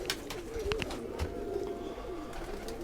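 Pigeons coo softly and repeatedly among kept pigeons and quails, low throaty calls over a steady background hum with a few faint chirps.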